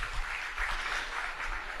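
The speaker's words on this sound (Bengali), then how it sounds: "তার জন্য একটা করতালি হবে প্লিজ" An audience claps at a Dhaka University students' union gathering, a brief, moderately faint patter of applause with no voice over it.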